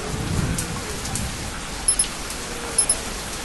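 Thunderstorm with rain in a zombie survival game: a steady hiss of rainfall over a low rumble that fades, then two pairs of short sharp knocks later on.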